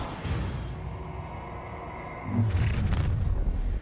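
A Confringo spell explosion in Hogwarts Legacy rumbles as a low, fiery roar that builds into a louder booming burst near the end, with no voices over it.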